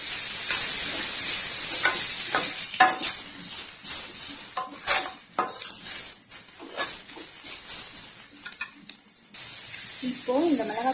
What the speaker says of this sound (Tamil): இதையும் சேர்த்து நல்லா வதக்கலாம்